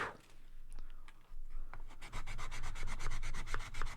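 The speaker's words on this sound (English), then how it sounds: "you need to just kind of sand that surface flat" Sandpaper is rubbed back and forth across a guitar neck surface to level it flat, starting with a few scattered strokes and building into steady, close, rhythmic rasping passes with no voices.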